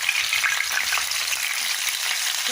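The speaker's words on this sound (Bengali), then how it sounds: "চুলাতে তেল দিয়েছি প্যানে গরম হয়ে গেছে এবার মাছগুলো একটা একটা করে দিয়ে দেবো" Pomfret fish frying in hot oil in a pan gives a loud, dense, continuous sizzle, close up and with no voices.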